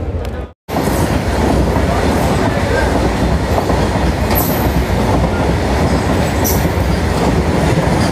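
A train rolls through Dabra railway station with a loud, continuous rumble and rattle of carriages from close by, after a brief break at the start, and faint squeals of the wheels rise above it now and then.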